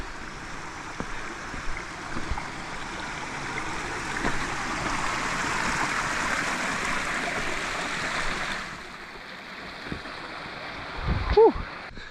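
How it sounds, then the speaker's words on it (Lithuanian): A small mountain stream rushes in a steady, close broadband wash for most of the stretch. It eases near the end, where a few brief knocks and a faint voice-like sound come through. "Upeliuks."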